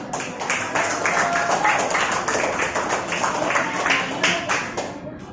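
Classroom applause during a teaching practice session, a busy patter of many hands clapping together at fairly close range that holds steady throughout.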